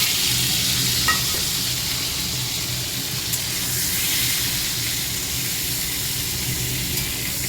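Steady loud sizzle of frying in a pan for an onion egg curry made without spices, continuous broadband hiss with a few faint stirring knocks, no voices.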